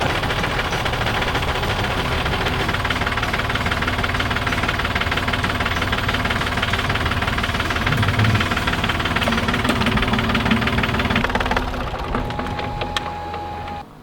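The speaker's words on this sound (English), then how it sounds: "the faster the engine revs, the faster that raw water pump will spin and the faster it will suck the water out of this" A boat's inboard engine runs steadily while driving its raw water pump, a loud, continuous mechanical drone with a knocking rhythm that drops off abruptly near the end.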